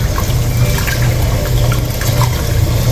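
Water pours and trickles steadily at close range as rice is washed, a continuous splashing flow without any talk.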